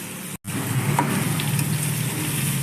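Onions fry in a pan of hot oil with curry leaves and green chilli, making a steady, close sizzle that runs throughout with one very brief break near the start.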